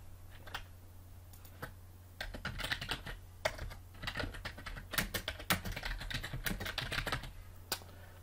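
Typing a file name on a computer keyboard during a web design tutorial: a run of light, close key clicks, sparse at first and then quicker and denser, heard alone over a faint low hum.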